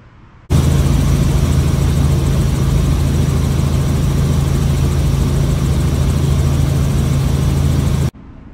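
A Robinson R44 helicopter with worn main rotor pitch link rod ends runs loudly and close, a steady engine roar with a low rotor throb that starts abruptly and cuts off near the end.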